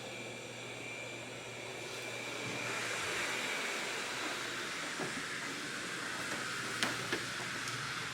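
Roborock S7 robot vacuum running steadily across carpet and floor, a continuous whirring motor hum with broadband suction noise that swells slightly partway through, with occasional faint clicks and bumps.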